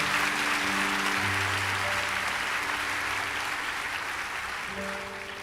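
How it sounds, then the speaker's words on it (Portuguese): Church congregation applauding together, a dense, sustained wash of clapping that holds steady and slowly tapers, heard a little distant, with a faint musical tone underneath. "Eu queria que a igreja desse um aplauso."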